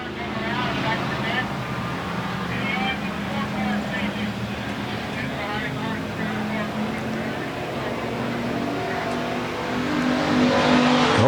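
Bomber-class race cars at Central Arizona Speedway roar continuously with engines revving, a dense loud drone that swells toward the end, while an announcer talks over it.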